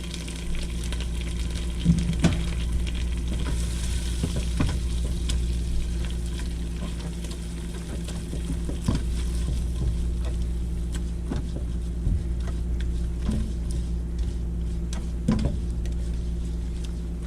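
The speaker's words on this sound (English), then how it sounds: "Get this stirred up." A pot of peanut butter fudge mixture is stirred steadily, a continuous bubbling, scraping texture with occasional light clinks of the spoon against the pan, close and even throughout, with no talking.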